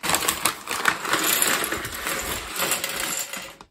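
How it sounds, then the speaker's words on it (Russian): Small Lego Technic parts and two little paper bags spill out of a large bag, a continuous loud rattling clatter of hard plastic pieces tumbling and clicking over about four seconds, with no one talking. "Из большого пакета также высыпаются два малых бумажных пакета, в которых находится всякая мелочевка."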